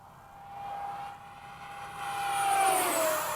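Thin, high-pitched turbine whine of a 70mm ducted-fan RC F-35 jet model with a slightly chipped fan, flying in the evening, swelling louder and dipping in pitch as it passes overhead.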